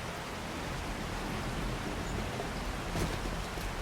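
Storm rain in the video game 7 Days to Die, a steady dense hiss of downpour across the whole stretch, with a slightly louder swell near the end and no voices.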